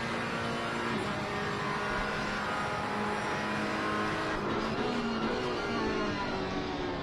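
Race cars in Assetto Corsa Competizione brake into Parabolica at Monza, a continuous layered engine drone with shifting tones that stays steady and fairly loud throughout, without speech.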